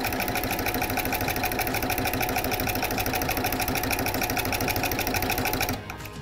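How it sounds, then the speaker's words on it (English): Baby Lock Brilliant sewing machine with a walking foot and quilting guide bar stitching parallel channel-quilting rows: a fast, steady mechanical whir and needle chatter running continuously, then dropping off abruptly as the seam ends. "I've already stitched one row of stitching, and I'm following that row with the quilting guide bar so that I'll have two parallel"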